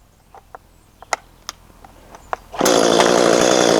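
An Echo CS310-ES chainsaw starts into seasoned sycamore wood after a few sharp clicks and taps, then snarls loud and steady right up close.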